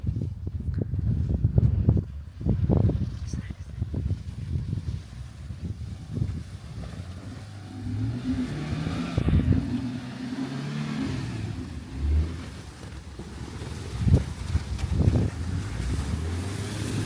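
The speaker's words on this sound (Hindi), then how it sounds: "जी भाई जी की गाड़ी आ गई।" A car freed after being pushed out of snow drives up, its engine revving and surging in bursts over heavy wind noise, growing closer with rising and falling pitch.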